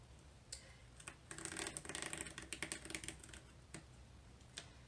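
A sharpened pencil traces back and forth along a template on burlap, making faint, irregular scratchy strokes that cluster in a busy middle stretch and thin out toward the end.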